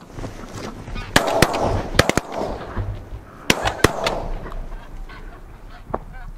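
A large flock of greylag and white-fronted geese honking during a goose hunt in Denmark, a chorus of calls cut by several loud, sharp shotgun blasts.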